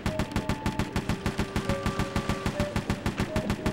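Rapid automatic gunfire from a turret mounted on the grapple cam in Sly 3: Honor Among Thieves, a steady stream of loud, evenly spaced shots over a light game backdrop, with no talking.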